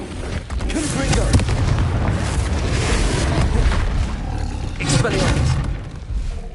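Confringo blasting spell explosions in Hogwarts Legacy on PS5, a heavy, continuous roaring boom with rumbling bursts that flare again near the end, while a voice speaks over the combat.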